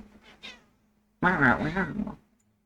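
A faint short sound first, then a loud, drawn-out meow close by, heard alone in a quiet room.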